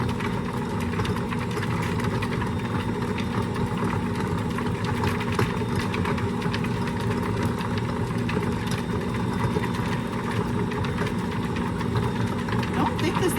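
A mixer runs on low while cold butter goes in for oatmeal-maple scones, giving a constant droning motor hum with a faint rattling texture throughout.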